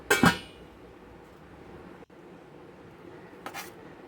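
A lid is set on a pot of Kerala curry with jackfruit seeds, mango, drumstick and dried prawns, giving one bright metallic clink at the start. A faint second rattle follows later against quiet kitchen background.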